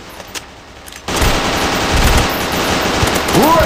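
Rapid automatic gunfire erupts in an Android first-person shooter game, a loud, dense burst of shots running continuously for a few seconds after a brief quieter moment.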